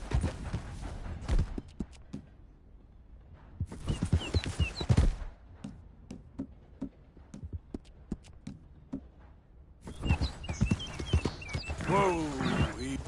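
Horse hooves clip-clopping at a steady run in Red Dead Redemption 2, close and moderately loud, with scattered game sounds layered over the rhythm.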